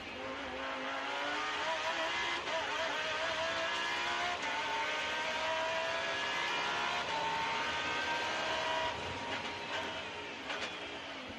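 A Lamborghini Super Trofeo race car drives at Imola, heading uphill toward the Variante Alta and bouncing over the curb. Its engine roars loudly and steadily, with rising and shifting tones throughout.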